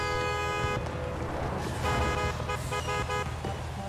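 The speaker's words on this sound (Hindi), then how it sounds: "उसने मेरे हॉर्न सुन लिया" A car horn honks in sustained, steady blasts over road and engine noise, with a few shorter toots near the end.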